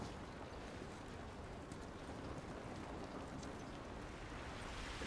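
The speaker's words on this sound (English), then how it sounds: "It's raining." Dense, steady rain from The Last of Us Remastered hisses evenly throughout, soft and continuous with no voices.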